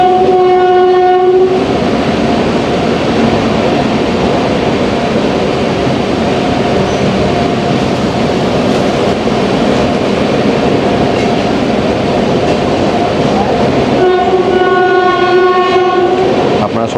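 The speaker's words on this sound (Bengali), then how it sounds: "নম্বর প্ল্যাটফর্ম দিয়ে আমাদের ট্রেন পাস করছে" The Darjeeling Mail rolls through Rampurhat station with a loud, steady rumble of passing carriages, and its horn blares at the start and again near the end.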